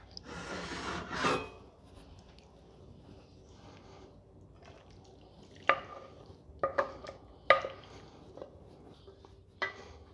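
Spreading a beefy tater tot casserole mixture into a casserole dish: a scraping rub early on, then scattered sharp taps and scrapes of a utensil against the dish, close and fairly quiet.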